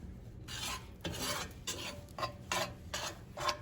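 A flour and butter roux stirred in a cast iron pan, with rhythmic scraping and rasping strokes of a utensil against the metal, about six passes, close up and fairly quiet over faint sizzling.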